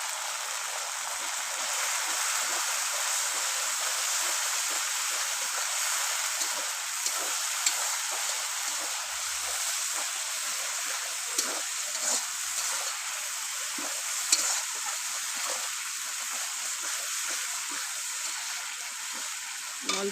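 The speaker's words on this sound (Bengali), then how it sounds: "এবার ভালো করে কষিয়ে নিই।" Spices with cumin powder and salt sauté for a potato curry over a clay stove, a dense bright sizzle that holds steady throughout with faint stirring taps, no speech.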